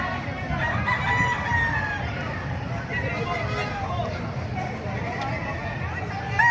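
Several gamefowl roosters, including F1 White Hatch, crow over and over, layered into a constant loud din of fowl noise with faint voices and background rumble.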